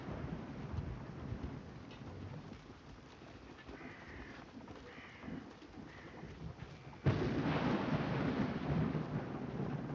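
Rain and thunder from the video game Wartales: a low rumbling storm bed with steady rainfall, then a sudden louder swell of heavy rain and thunder about two-thirds through.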